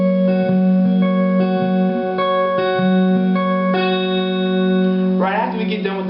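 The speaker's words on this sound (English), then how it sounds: "Now it's going to be the same finger picking pattern that we've been doing for the intro and for the verse." A fingerpicked guitar pattern in a worship song arrangement plays a steady sequence of plucked notes, with chord changes every second or so, ringing clearly and close up, and no voice over it.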